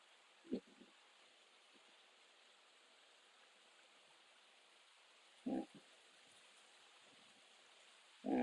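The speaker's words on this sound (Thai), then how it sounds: "ถือว่าน้ำไหลแน่นะครับน้ำไหลเชี่ยว" Floodwater rushes swiftly across a rural road in Maha Sarakham, Thailand, as a steady, faint hiss of flowing water with a few short, dull knocks breaking through.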